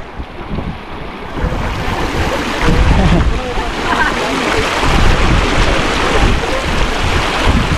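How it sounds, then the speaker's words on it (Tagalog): Loud, continuous rush of churning sea water with wind buffeting the microphone, a steady roaring wash with no clear breaks. "grabe po lakas ng tubig dito oh"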